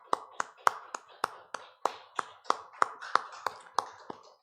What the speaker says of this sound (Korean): 하나님 영광의 박수를 드리겠습니다.